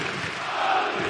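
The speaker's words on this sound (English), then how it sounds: "Crowd, wall of noise here." Basketball arena crowd at a European cup final, a dense roar of fans filling the hall for a brief, steady moment.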